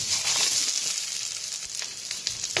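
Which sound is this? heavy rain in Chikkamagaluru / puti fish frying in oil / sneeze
puti fish frying in oil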